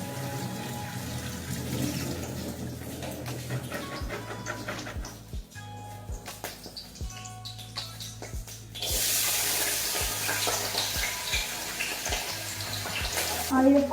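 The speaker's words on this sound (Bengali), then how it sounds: "এবার এগুলো একটু ভেজে নেবো।" Vegetables frying in hot ghee, a continuous hissing sizzle that grows louder partway through, with rhythmic low tapping of a utensil against the pan.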